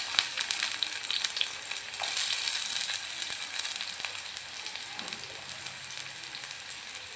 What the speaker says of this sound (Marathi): तेल गरम झाले की त्यात आपण कांदा टाकूया।